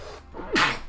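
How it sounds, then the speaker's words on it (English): A single sneeze from a player during a Honkai: Star Rail session, a short breathy intake followed by a loud bright burst, close and alone with no talk over it. "I'm gonna sneeze."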